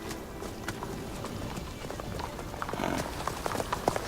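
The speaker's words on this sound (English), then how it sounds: "The horse knows the way to carry us." Horse hooves clip-clop in a steady trotting rhythm in a video game, moderately loud and continuous over faint background ambience, with no speech.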